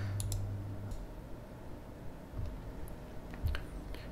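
Faint computer mouse clicks come in a few separate quiet taps over a low steady background hum.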